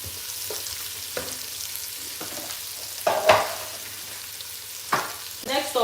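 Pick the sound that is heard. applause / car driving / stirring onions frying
stirring onions frying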